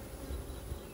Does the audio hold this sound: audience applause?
no